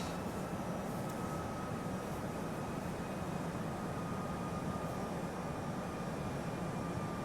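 Steady airliner engine drone at cruising altitude in the Prepar3D flight simulator, a continuous broadband roar with a faint high whine that holds level throughout, with no voices.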